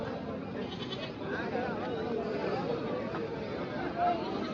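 Goats bleat amid a busy livestock market at Avinashi holding around two thousand goats, their cries mixed into a steady hubbub of crowd chatter and general market noise.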